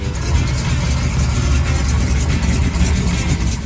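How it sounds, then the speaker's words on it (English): A compact diesel engine in a small-scale Kenworth truck runs close by with a deep, steady, throbbing idle that holds evenly throughout. "The deep, steady diesel sound adds to the realism,"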